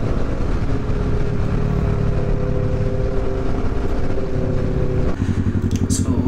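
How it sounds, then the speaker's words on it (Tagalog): A motorcycle rides along the TPLEX expressway, its steady, loud engine drone and road rumble continuous throughout, with a slight shift in engine tone just past the five-second mark. "First time sa expressway na nakamotor."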